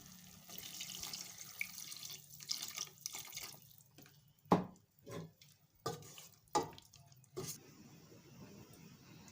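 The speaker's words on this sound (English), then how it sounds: "The meat has been steaming, so I'm adding a little more water to it for it to cook" Water is poured into a pot of steaming meat and fish in a Lagos home kitchen, giving splashy gushes and irregular sloshing bursts with quiet gaps between, close and fairly soft, with no talk.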